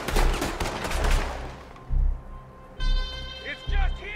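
Several heavy gunshots from Red Dead Redemption 2 during its finale shootout, loud bursts spaced roughly a second apart, mixed with an agitated voice and a ringing tonal effect near the end.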